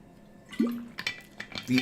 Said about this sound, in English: Let me get some water real quick.